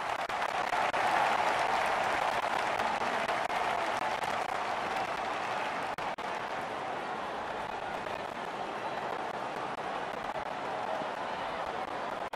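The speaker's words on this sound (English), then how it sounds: "The crowd applaud." A cricket crowd applauds in the Don Bradman Cricket 14 video game during a T20 league match, producing a steady, moderately faint wash of clapping and crowd noise that continues throughout.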